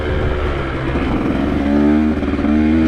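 A motorcycle rides a red dirt trail, its engine droning steadily close by with slight revving changes and no talk.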